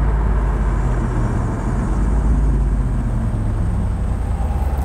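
BMW 650i Convertible's V8 engine while driving, a steady loud low rumble with road and wind noise that holds constant throughout, with no talk.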